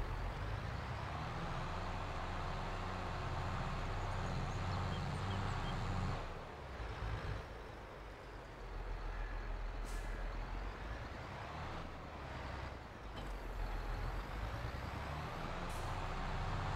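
Truck in Farming Simulator 22 rumbles at a steady idle while dropping off a trailer, with a hiss of air brakes and brief mechanical clunks partway through, continuous and fairly loud.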